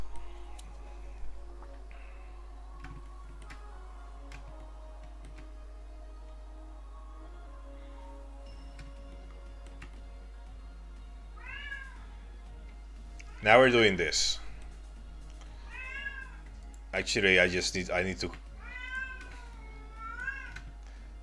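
A house cat meows several times, with short, wavering cries coming in clusters partway through, while a person talks quietly over a low, steady hum.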